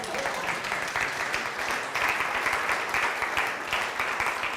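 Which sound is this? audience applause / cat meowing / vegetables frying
audience applause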